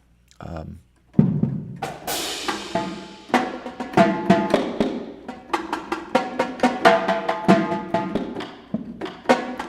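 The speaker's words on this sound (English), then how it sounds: "Those are the tenor drums" Tenor drums in a drumline setup are struck in a busy sequence of sharp, resonant hits, some single and some in quick flurries, close and fairly loud after a brief opening knock, with no talk.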